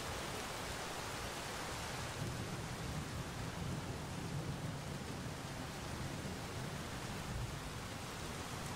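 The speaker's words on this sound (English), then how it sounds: "The sound of the rain continues to comfort me." Steady rainfall with a thunderstorm ambience, an even, unbroken hiss of rain at low volume with a faint low rumble beneath, no voices and no distinct thunder claps.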